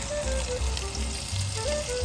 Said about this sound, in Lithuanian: Vištienos krūtinėlį parem į keptuvę